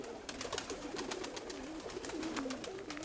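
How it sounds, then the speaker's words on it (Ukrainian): Kept pigeons coo softly and continuously in their loft at about eight in the morning, low throaty murmurs rolling over one another with faint flutters in the background. "Зараз я відкрию голубів"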